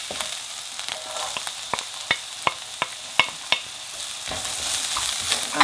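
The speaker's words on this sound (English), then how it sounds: "let the onions fry for a minute" Onions sizzle loudly in a hot pan while cooking prawn fried rice, with a run of sharp clinks and scrapes from a spatula stirring at an uneven pace.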